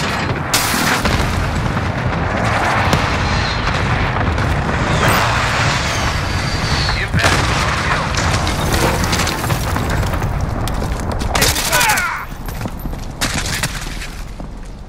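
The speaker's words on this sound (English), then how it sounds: "Allied cluster strike incoming." Cluster strike explosions in a Call of Duty Modern Warfare match: a rapid run of loud, heavy booms and crackling blasts rolling over one another, with a distinct burst of impacts near the end before it tails off.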